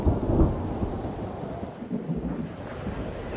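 Rumbling thunder rolls over steady heavy rain in the video game Mind Over Magic, loud and continuous with no talking.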